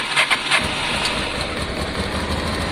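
Honda Deauville motorcycle engine started without choke after a carburettor clean, catching with a few uneven sputters and then settling into a steady, close idle.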